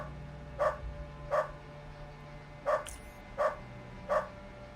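Dogs in the video game Underrail bark five times in short, evenly spaced single barks, moderately loud against a faint steady hum with no talking.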